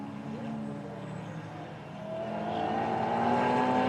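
GT4 race cars, including a BMW M3 and a dark green Ginetta, race at the Adria circuit. Their engines drone and rise steadily as they pass, loud and continuous under a commentator's voice.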